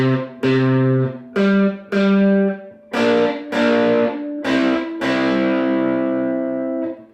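Electric guitar playing Texas blues shuffle double stops, a series of short separate picks followed by a longer sustained pair, with a slightly driven tone.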